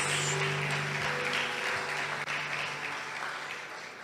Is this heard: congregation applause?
yes